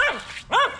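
A dog barks twice in quick succession, close and fairly loud, on a tiling job site with construction work underway.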